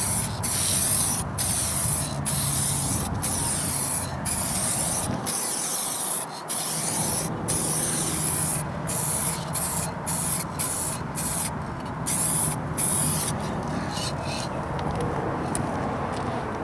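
Spray gun laying the final coat of paint on a car's rocker panels, a loud steady hiss broken by frequent short pauses between passes, with one longer gap partway through.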